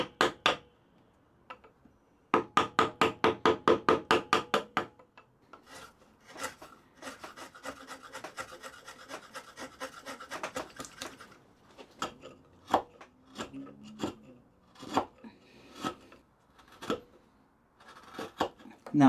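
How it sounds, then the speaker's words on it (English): A chisel is driven through hardwood end grain while a saw vise is being built, giving sharp repeated rasping strokes in quick bursts followed by scattered scraping and tapping, close and clear. "you're struggling to chisel through the end grain"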